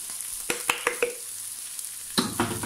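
Tomato sauce, about 8 centilitres, hits a hot pan for a tuna brick filling and sizzles, with a few sharp clatters and stirring knocks. A louder burst of frying comes near the end.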